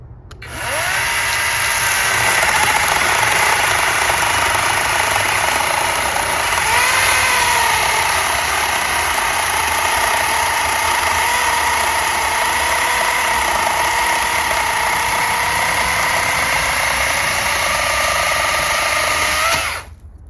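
A small lithium-ion battery mini handheld chainsaw cuts through wet, moist wood with a steady, loud electric motor whine and chain buzz, running continuously for about twenty seconds and rising in pitch as it meets resistance.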